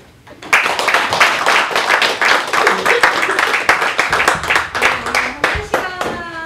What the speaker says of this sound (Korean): 다시 일어서는 박종태 대리에 대해서 다시 한번 뵙네 박수 보내드리겠습니다